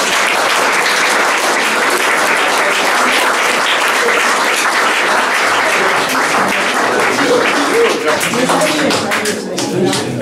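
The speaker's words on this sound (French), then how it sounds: "On applaudit Marie-Madeleine." A congregation applauds Marie-Madeleine after the Saint Bruno Mass at the Chartreuse de Molsheim. The clapping is loud, dense and sustained for ten seconds, with a few voices murmuring beneath it as it begins to thin out.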